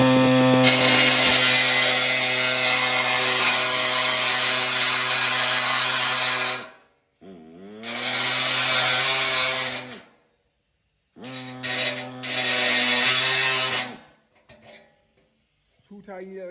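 A power tool makes small cuts in the metal wheel arches of a Ford Transit: three loud close bursts of high whining cutting, the first long and the later two shorter, separated by brief silences.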